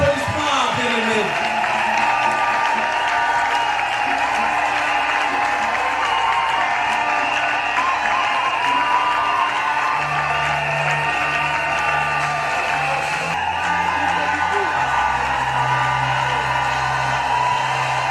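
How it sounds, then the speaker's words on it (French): A church congregation claps and cheers as a bishop walks up to the stage, a steady crowd wash lasting throughout under music and a voice talking over it. "sous vos applaudissements"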